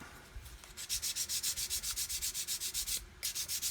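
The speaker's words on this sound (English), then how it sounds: "And then we're free to sand to our heart's content." Rapid back-and-forth sanding of a part from an Airfix 1/72 Vulcan plastic model kit, about twenty quick, even rubbing strokes close by, with a brief pause near the end.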